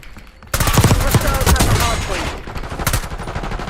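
Rapid gunfire from an AS VAL rifle in Call of Duty: Black Ops 6, loud and close, bursting in suddenly after a quiet start and rattling in dense volleys for about three seconds, with someone speaking over it.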